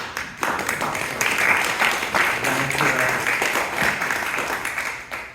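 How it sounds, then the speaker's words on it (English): Task force members receive applause at a Youth Center Task Force meeting, a room of hands clapping that swells and ebbs over several seconds, with some voices underneath. "I think you all deserve a round of applause"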